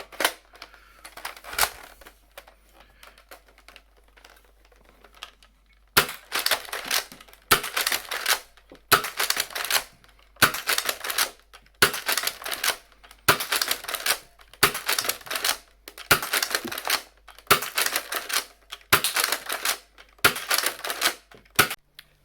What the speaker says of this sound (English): So let's try it with a retaliator and a 12 dart clip.